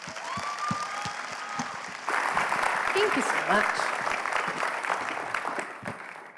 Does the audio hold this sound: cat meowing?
no